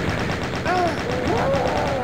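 Double-barrel shotgun blasts in Doom, with a few heavy shots mixed into chaotic game noise and rising monster-like cries, loud and close.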